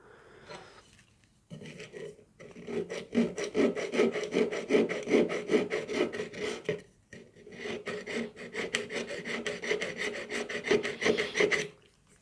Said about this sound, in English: very delicately filing off any additional material until you've got it down to something that looks like what you want